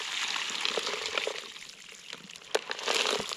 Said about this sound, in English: Now I don't want to carry the water as well, so I'll tip the water out.